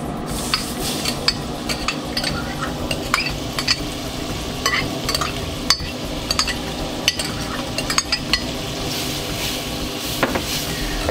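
Chopped onions sweating in hot oil with toasted spices, a loud, continuous close sizzle broken by frequent small clinks and scrapes of stirring in the pan, with no talking.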